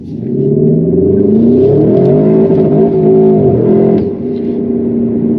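A Porsche Cayenne Turbo GT pulls hard from 100 to 200 km/h on the autobahn, its engine note loud and close, climbing steadily through the gears with a brief shift dip near the end.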